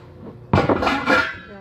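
Metal cooking pots clatter and clink as they are handled in a kitchen for washing, one sharp clang followed by a second of rattling, close and fairly loud.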